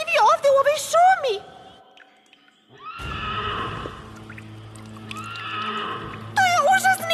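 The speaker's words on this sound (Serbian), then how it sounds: "To je užasni plač obezglavljenog konja." A cartoon horse lets out a shrill, wavering whinny at the start and again at the end, in an animated My Little Pony forest scene. Quieter, drawn-out eerie cries fill the middle stretch.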